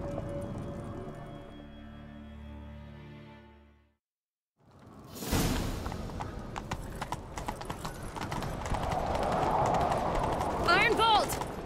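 Horse hooves clip-clop at a gallop in The Witcher video game, building after a brief silence into a steady rhythmic run with a neigh near the end, over game sounds.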